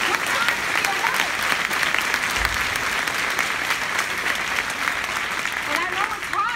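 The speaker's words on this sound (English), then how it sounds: "Give those women a round of applause." Audience at a women's summit claps loudly and continuously, a dense, close round of applause with faint voices and cheers mixed in.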